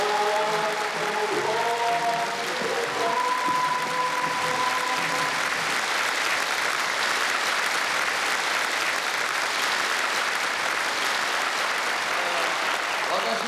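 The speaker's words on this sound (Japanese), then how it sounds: "大観衆の前で紹介された笹川会長ご夫妻は地元ブリスベンのちびっ子の案内で登場、万雷の拍手に包まれました。" Thunderous applause from a huge crowd welcoming guests at a public event in Brisbane, a dense, steady roar of clapping that runs loudly the whole time, with a voice speaking faintly underneath at the start.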